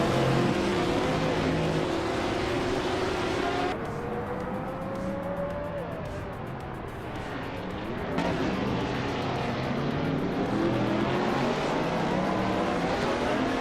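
Race cars in a video game roar past with loud, continuous engine whine and rising and falling pitch glides, several cars layered together up close.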